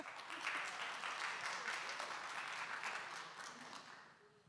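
Audience applause after doctoral capstone presentations, a steady wash of many hands clapping at moderate distance that holds evenly, then thins and fades out near the end.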